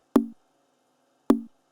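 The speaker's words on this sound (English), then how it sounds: "I also added another rim, also from the Chucky Beats drum kit, and it sounds like this." A rim sample from the Chucky Beats drum kit in FL Studio, an AfroBeat production: two crisp, woody rim clicks about a second apart, each with a short hollow ring, isolated against silence.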